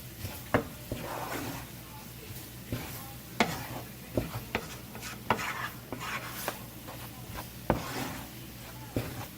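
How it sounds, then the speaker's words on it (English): A chicken, shrimp and sausage gumbo simmers in a pot, giving a steady low bubbling hiss broken by scattered soft knocks, with no talk. "allow our gumbo to simmer"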